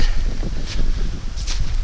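Loud, gusty wind roars and buffets close by on a high-country ridge amid cold, wet snow, with deep low rumbling and brief rushing surges.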